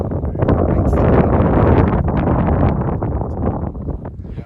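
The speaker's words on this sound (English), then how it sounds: "Very windy." Strong mountain wind near Baxter Peak on Katahdin buffets the microphone in a steady, loud roar with gusty rustling throughout, no voices heard.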